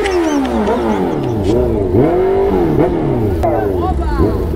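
Heavy road traffic in the rain around a big motorcycle, with a loud, continuous wash of engines and rising and falling horn-like tones sweeping through close by, steady throughout.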